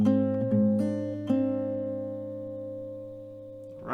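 Acoustic guitar picks out the F section of a song, a few plucked notes near the start and then chords left ringing and slowly fading, close and clean with no voice.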